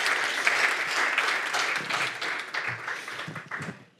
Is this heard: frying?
no